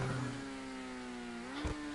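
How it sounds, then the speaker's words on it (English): High-revving car engines race during a stunt race in the video game GTA Online. A sustained, singing engine tone holds steady, then briefly dips and climbs again, fairly faint but clear. "high engine notes singing out."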